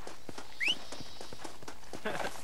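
Hooves clip-clop at a steady walking pace from a horse in Red Dead Redemption, close and clear over a faint ambient bed, with a brief high chirp and a soft voice in the background.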